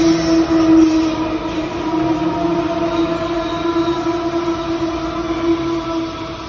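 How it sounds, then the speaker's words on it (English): A passing coal freight train at Parramatta Station rumbles loudly with a sustained tonal hum and squealing wheels, steady and close throughout. "There's a coal train."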